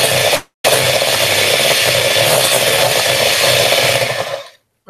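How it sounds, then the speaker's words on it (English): An electric whisk whips cream with a loud, steady whirring drone. It briefly cuts out near the start, then runs without a break before stopping. "I'm going to give it another quick whisk"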